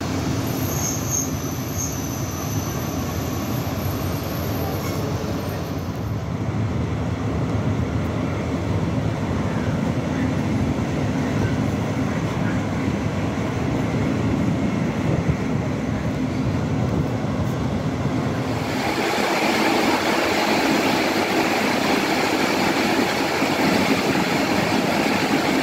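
A passenger train runs along Hungarian railway line 17 with a steady rumble of wheels on track and a shift in tone partway through. The sound is continuous and fairly loud, with faint talk at times.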